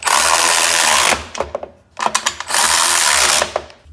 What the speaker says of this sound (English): we still have to tighten these nylon lock nuts, all 4 of them at each bracket